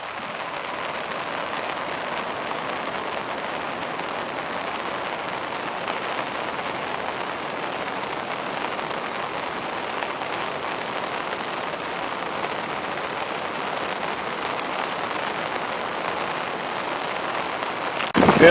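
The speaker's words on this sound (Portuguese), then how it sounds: "chove muito." Heavy rain pours steadily onto a deserted beach in Santos, a dense, even hiss of drops with no break for the full length and no voices.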